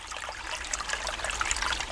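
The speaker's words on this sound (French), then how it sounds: "La rivière, c'est Zhuxi qui traverse le cimetière de Nanshan." Water of the Zhuxi river flowing past its banks through Nanshan cemetery, a steady close trickling and babbling stream sound with no voices.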